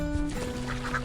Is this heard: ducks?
yes